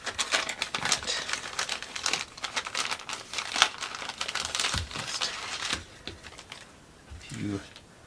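A plastic bag is torn open and crinkled during the unboxing of a Cuteroom miniature dollhouse kit, giving busy close rustling and crackling for several seconds before it quiets to softer handling near the end.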